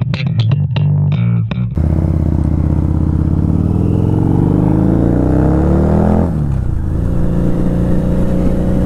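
A car engine with tiny wheels revs in a few sharp bursts, then holds one long rising, roaring pull that cuts off before it settles back to a rough idle, loud and close.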